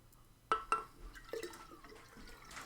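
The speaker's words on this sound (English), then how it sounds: "add a bit more water to that" Water poured into a jar of sprouting seeds to top up the soak, heard as two quick splashy pours and a few drips and trickles, fairly close and quiet.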